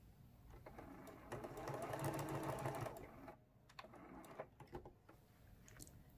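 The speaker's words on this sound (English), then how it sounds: "I'm just using a straight stitch right inside my HEXI shape all the way around" A sewing machine straight-stitching around a hexagon raw-edge appliqué on a mug rug, running in a steady close whir for a few seconds, then stopping with light handling clicks.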